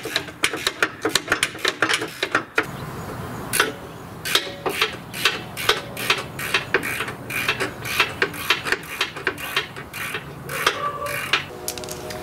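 A ratchet loosens a bumper nut during a truck bumper and winch install, with rapid bursts of sharp, close clicking broken by short pauses and no talk.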